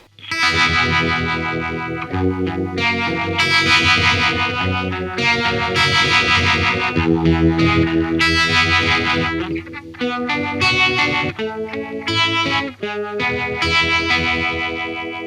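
Electric guitar through a UAD Astro Modulation Machine set to a vintage Fender-style tremolo, blending into a swirling Univibe or Leslie-like wobble over dense, distorted chords and lead lines, loud and continuous without talk.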